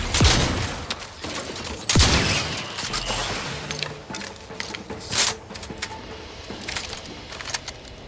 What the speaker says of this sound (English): The triple shot shotgun has 2 shots.